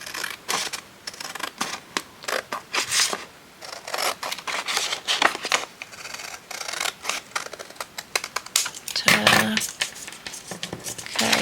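Scissors snip and trim paper craft decoration for a journal page, a quick irregular run of close, crisp cuts mixed with paper rustling and handling.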